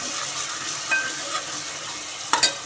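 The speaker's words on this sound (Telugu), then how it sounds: "ఇది మంచిగా పచ్చి వాసన పోయే వరకు ఫ్రై చేసేసుకోండి" Ginger garlic paste and onion fry gently in a pan, a soft steady sizzle broken by a few brief scrapes and stirs of a utensil near the end.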